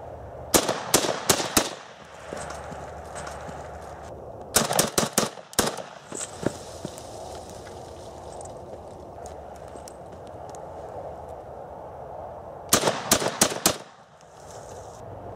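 Short bursts of AK-47 automatic rifle fire, loud and close: a rapid volley of about five shots, a pause, a second burst of five or six, a few scattered single shots, then another quick burst of four near the end.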